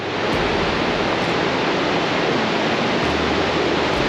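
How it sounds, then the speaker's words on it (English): Steady, dense roar of a waterfall in Iceland, a loud broadband rush of falling water that holds constant throughout with no voices. "there is another waterfall that you don't want to miss."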